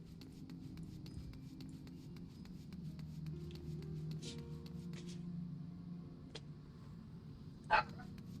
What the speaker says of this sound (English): Oh my god, my dog is barking again.